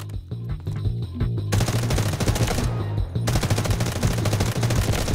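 Weapon fire in Delta Force Mobile: a short run of rapid shots, then sustained loud automatic bursts with a brief pause before firing resumes, dense and close.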